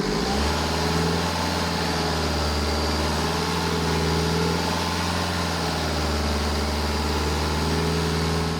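A BMW with a diesel engine running just after a road test, a loud, steady, close low drone with a constant hum and no pauses.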